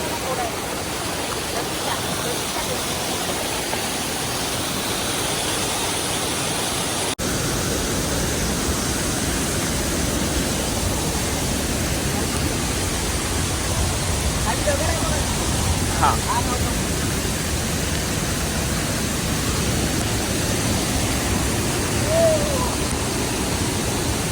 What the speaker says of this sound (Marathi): धबधबा आहे पूर्ण पाणी उडते